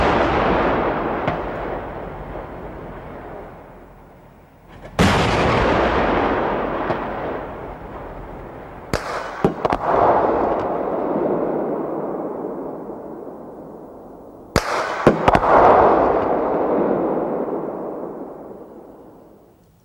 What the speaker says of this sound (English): The high effect of the 40mm APF SDST projectile is shown in firings against 2 different armor plate targets.